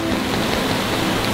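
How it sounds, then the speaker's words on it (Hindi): Heavy rain pouring down during a cyclone, a loud, dense, unbroken hiss of downpour with no pauses. "अभी देखो बरसात कितनी तेज हो गई है"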